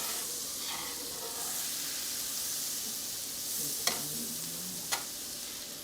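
Six tablespoons of butter melt in a pan for white sauce, giving a soft, steady sizzle with a couple of faint clicks from the utensils.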